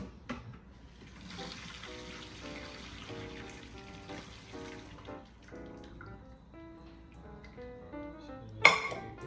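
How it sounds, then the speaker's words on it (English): Pots and a strainer clatter at a kitchen sink during home cooking: a run of ringing metallic clinks and knocks, close and moderately loud, ending with one sharp louder clank. "Get these over to your sink, grab your strainer"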